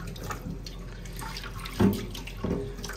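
Hot water running from a tap into a sink at a campsite washing-up area in Wales, a steady close splashing flow with a few louder gushes as something is moved under the stream.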